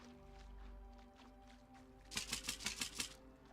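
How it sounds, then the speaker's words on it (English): Hooves clip-clop in quick, even steps from a horse in the medieval game Medieval Dynasty, a short burst of crisp, fairly close footfalls over a quiet tonal background hum. "Horsey."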